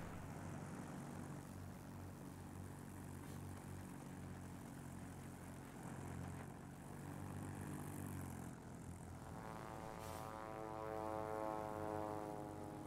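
A Spitfire fighter's propeller engine drones steadily in a World of Warplanes air battle, a continuous close roar that rises in pitch and intensity toward the end, with no voices over it.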